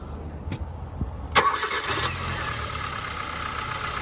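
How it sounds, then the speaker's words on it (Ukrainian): A Kia Cerato Koup engine cranks briefly and catches, then settles into a steady, even idle close by, with no talk. "Зараз слухаємо, як працює мотор."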